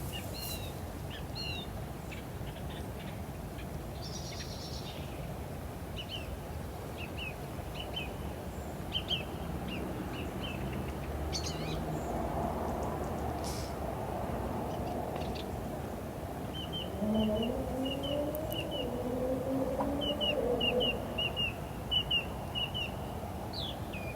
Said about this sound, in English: I think it is a blackbird, I'm not sure of it.